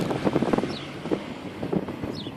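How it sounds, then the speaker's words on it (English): Wind blowing at a beach, gusty buffeting against the microphone in uneven bursts, with faint high whistling streaks in the background and no talking. "Now it's getting a little bit more windy here"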